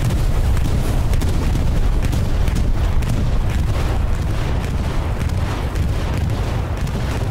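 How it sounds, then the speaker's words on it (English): Heavy bombing-run explosions from a war video game roar continuously, a dense, loud barrage of booms and blasts rolling over one another without pause and with no voices. "I think that bombing run got them"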